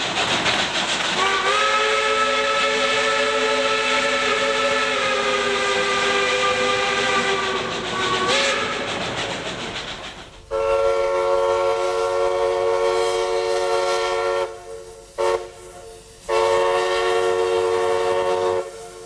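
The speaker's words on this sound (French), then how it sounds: "Dans les sirènes de type américain, la cloche est divisée en plusieurs compartiments de différentes tailles" An American-type steam locomotive whistle with a bell split into several chambers sounds long, deep blended chords. The first blast lasts about eight seconds and fades away. A second loud blast follows, broken by short gaps into choppy bursts.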